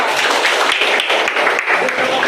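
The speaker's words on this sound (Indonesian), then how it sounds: "Tepuk tangan untuk semua." A class of students applauds everyone in a lesson, a loud, close, continuous clatter of many hands with voices mixed in underneath.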